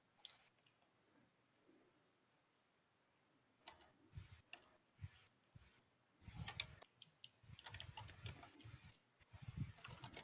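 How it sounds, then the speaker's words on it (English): Someone types on a computer keyboard in faint, close bursts of irregular key clicks that grow busier and denser toward the end, with quiet stretches between. "I heard the typing"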